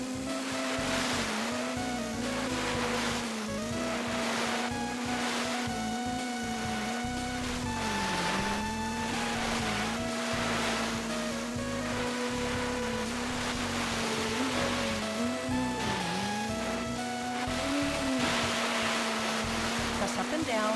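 A jet ski engine whines steadily at full throttle as it races over waves in the Nintendo 64 game Wave Race 64, the pitch rising and dipping with the swells under continuous game music and splashing.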